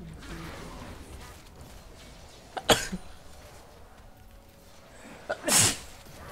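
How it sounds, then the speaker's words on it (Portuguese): A loud, sharp sneeze from a gamer during a League of Legends match, preceded a few seconds earlier by a smaller throaty burst like a cough, heard close to the microphone over quiet game sounds. "Foi mal, rapaziada, pela espirro."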